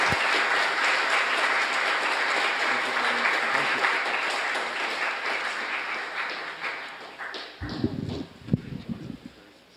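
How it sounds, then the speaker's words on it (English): An audience applauds a lecture steadily, a dense wash of clapping that fades slightly toward the end as a few louder individual claps and thumps break through. "please, another round of applause for our speaker, Jeff Kingston"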